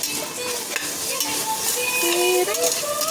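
Food is stirred in a pan while tomato biryani is cooked, giving a continuous bright sizzle with scraping, clinking strokes of a utensil against the metal pan, punctuated by a few sharp squeaks.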